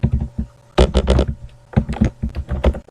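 Quick bursts of keystrokes on a computer keyboard come in short, close clusters separated by brief pauses.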